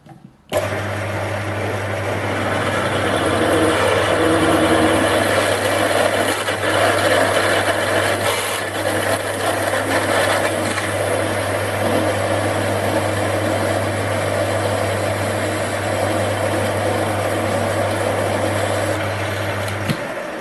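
A 13 mm HSS drill bit from a cheap 25-piece set boring a hole, a loud continuous motor whine with a steady low hum lasting about twenty seconds.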